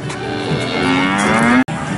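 Recorded cow moo played from a push-button at a farm animal exhibit in Legoland Florida, one sustained lowing call lasting over a second and a half, then cut off abruptly, with no talking.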